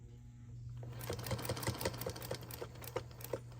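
A Singer Featherweight sewing machine stitching fabric for a cover in short bursts, its motor humming steadily under a rapid run of needle clicks at a close, moderate level.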